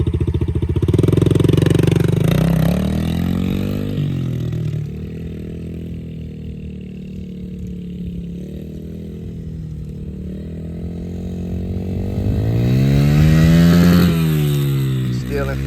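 A Yamaha TT-R dirt bike ridden by a young child revs and drops in pitch, the small engine rising, fading, then surging again up close, with people talking over it.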